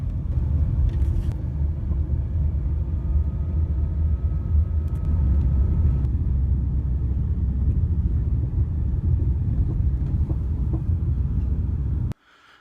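A car drives slowly behind an old closed K-Mart, its low engine rumble and tire noise continuous and close for about twelve seconds before cutting off abruptly.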